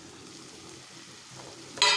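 A soft frying sizzle hisses steadily, then swells into a louder, sharper crackle near the end as fried fish hits hot oil with fried onions in the pan.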